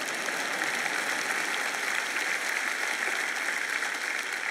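Congregation at a church service applauding together, a steady, dense wash of clapping at even loudness throughout, with no voice on top.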